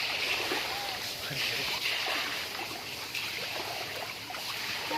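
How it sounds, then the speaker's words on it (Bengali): Rainwater drains off a flat rooftop in a steady, trickling rush, a continuous wash of flowing water heard fairly close, with a few splashes. "আজকে জলগুলো ছেড়ে দেওয়া হচ্ছে।"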